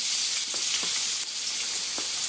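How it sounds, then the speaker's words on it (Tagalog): Garlic and onion sauté in a frying pan, a loud, close, steady sizzle with a few scraping stirs and no talking. "Lagay na natin tong bawang sibuyas."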